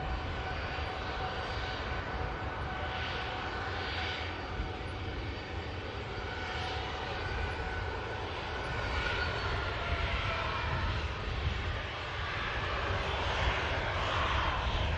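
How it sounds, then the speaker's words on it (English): Pegasus Airlines Boeing 737 airliner at Manchester Airport, a steady, moderately distant jet engine roar that holds throughout and swells slightly toward the end. "Pegasus with a 737 today."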